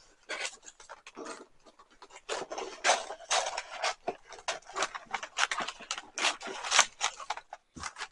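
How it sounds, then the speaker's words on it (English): Scissors trimming excess wrapping paper off the end of a wrapped box, a quiet run of close crisp snips and paper rustles in uneven bursts, with no talking. "We're going to cut the excess off of the end."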